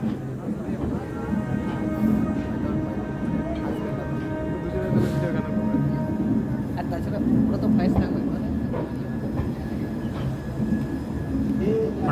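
A new Amrit Bharat Express, running its inaugural Santragachi to Anand Vihar special through Asansol, rumbles along in a steady, dense roar for the whole stretch, with faint voices mixed in.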